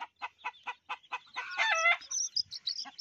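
A hen gives a run of short, evenly spaced clucks, then a louder drawn-out squawking call followed by a few softer chirps, close to the microphone.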